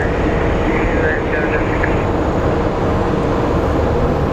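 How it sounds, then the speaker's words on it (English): A Frontier Airlines jet pushes back at Phoenix Sky Harbor Airport, giving a steady broadband roar of engines and ground noise with a faint higher whine, continuous and moderately distant. "We have a Frontier Airlines pushing out."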